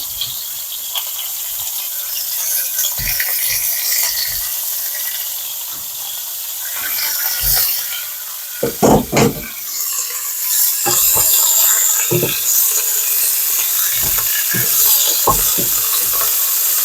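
Cubed beef sizzles loudly as it browns in a pan for a steak and ale pie, a constant bright crackling hiss broken by scraping stirs and the thuds of pieces being moved.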